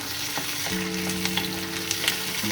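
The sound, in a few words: onion and tomato frying in a pan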